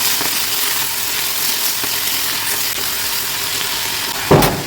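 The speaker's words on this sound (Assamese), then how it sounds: "এতিয়া দিছোঁ মই শাকখিনি আৰু লৰাই দিছোঁ।" Greens stirred into reddened onions in a hot pan, a steady broad sizzle of frying throughout with faint scraping stirs and a louder clatter of the spoon near the end.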